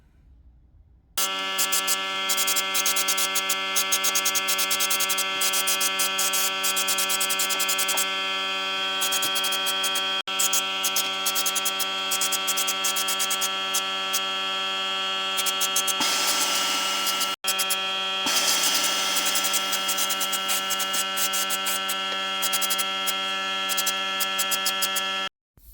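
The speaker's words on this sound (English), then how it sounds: "So I'm going to get the compressor out, annoy the neighbours, and get the thing done properly." Air compressor running steadily for spray painting a Ford Cortina's underside, a loud continuous motor drone with a rattling tick, briefly cutting out twice before carrying on and stopping abruptly.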